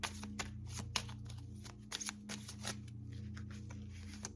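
Tarot cards are shuffled and drawn in a steady papery riffle and slide, close and soft, with a few sharper taps and flicks over a low background hum.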